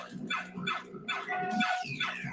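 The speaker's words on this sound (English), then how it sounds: "It makes a barking sound when you hit the fire button." A pinball machine's fire button triggers a synthesized barking effect, a rapid run of short electronic barks and yips that sounds loud and close, with no talking over it.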